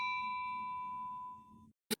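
A single bright notification ding rings out briefly and alone after a long fading electronic tone, clean and close with nothing else around it.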